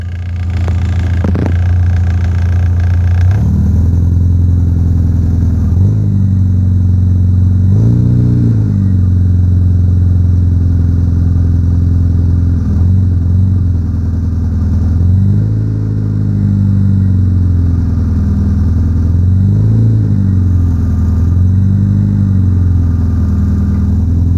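A 1994 Volkswagen Logus engine idles steadily and loudly up close while an air suspension compressor fills, with a low rumbling hum and periodic swells as the load shifts, plus a brief mechanical click near the start.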